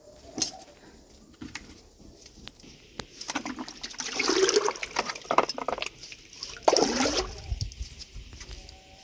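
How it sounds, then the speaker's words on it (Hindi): Water is poured and splashes for a calf to drink, in bursts of sloshing and trickling with clinks of a metal vessel, nearby and moderately loud. "और अब छुटकी को पानी पिला देते हैं।"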